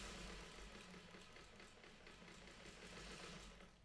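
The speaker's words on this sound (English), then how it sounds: "I'm going to sew right along that seam" A sewing machine stitches steadily along a quilt seam, its rapid mechanical rhythm continuous, close and fairly quiet, with no talking.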